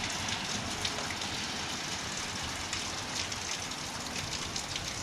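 Steady rain falling outside a front porch on a rainy August day, an even, continuous hiss and patter that stays constant throughout with no voices.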